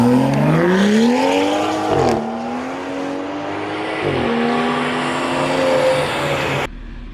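A BMW 340i xDrive launches hard on wet ground, its engine revving loudly and climbing through gears with two brief dips at shifts, close and strong before cutting off abruptly.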